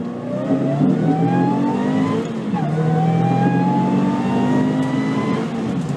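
A supercharged Subaru BRZ accelerates hard on a road drive, its engine note climbing steadily through the revs, dipping briefly at a gear change, then pulling up again, loud and close with no talking.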